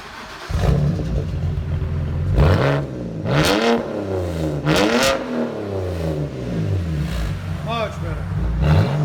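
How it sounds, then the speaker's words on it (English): A 2006 BMW 330i with a 3-inch straight-pipe exhaust and quad tips revs hard several times, each deep, loud roar climbing and falling back to a rumbling idle, close by. "That 3-inch pipe just gives it a really deep tone."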